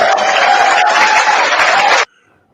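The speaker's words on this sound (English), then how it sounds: "Let me get a round of applause." A crowd applauds a newly announced speaker: a loud, dense burst of clapping and cheering for about two seconds that cuts off abruptly into near silence.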